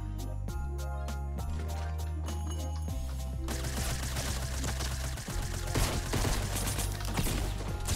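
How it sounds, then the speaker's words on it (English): Gunshots in Fortnite Battle Royale, a rapid series of sharp repeated shots over a steady game music drone, followed by a denser, noisier stretch of firing and impacts. "he shot like 7 times"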